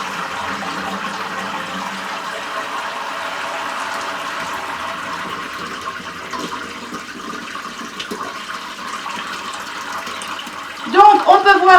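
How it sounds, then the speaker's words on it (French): Whey and curds of homemade feta pour steadily in a continuous watery gush, with a brief louder splashing burst near the end; no talk over it. "je vais aller récupérer mon petit lait et mon caillé et aller le verser délicatement parce que ça va sauter"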